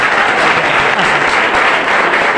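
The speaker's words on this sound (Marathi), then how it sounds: "टाळ्या वाजवायच्या जरा जोरांनी." A large audience claps loudly and steadily at a school annual prize distribution ceremony, the dense applause holding at an even level throughout.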